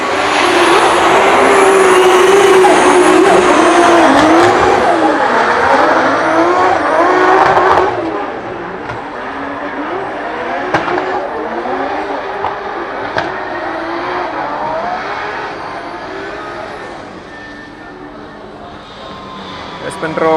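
Drift cars at a Drift Masters practice session in Riga, engines screaming loudly as they pass with tires squealing, then fading to a lower distant roar, with a commentator talking over the action.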